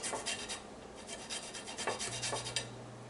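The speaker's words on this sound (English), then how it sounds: "we'll use a microplane or a grater to get our turmeric all grated" Fresh turmeric root is grated on a microplane, a soft close rasping scrape in repeated short strokes over about three seconds, fairly quiet and uninterrupted by speech.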